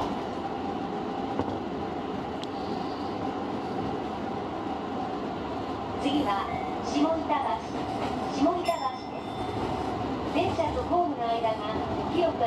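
A Tobu Tojo Line train, service 998 between Kami-Itabashi and Ikebukuro, keeps up a steady rumble with rhythmic wheel clatter, and brief squeals and rattles come through near the end.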